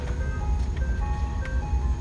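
An ice cream truck's music box chimes out a tinkling melody of The Sting over a steady low engine rumble, heard at a moderate distance.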